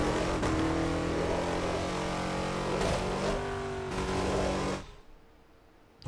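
A car engine revs hard and high as VTEC engages, a loud sustained close-up roar with shifting pitch that drops away abruptly near the end.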